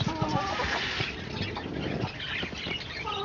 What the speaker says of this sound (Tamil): ஸோ ஒரு கோழி முட்டை போட்டாச்சு.